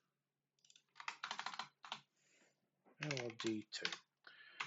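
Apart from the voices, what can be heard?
typing on a computer keyboard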